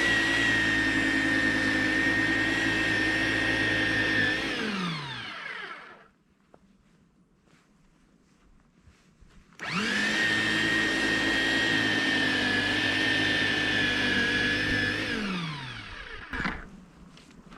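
A Snow Joe 323E 13-inch 10-amp electric snow thrower runs close by with a loud steady motor whine, winds down to quiet, then starts up again for a second long run before spinning down.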